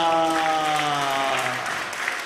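Broad applause from a church congregation fills the room, steady and sustained, fading slightly toward the end, with a sustained musical tone underneath.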